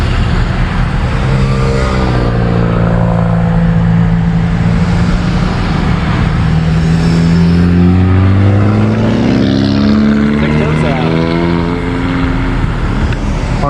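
At a car show, several car engines rev close by, loud and continuous, with rising and falling engine pitch sweeps and no talk over them.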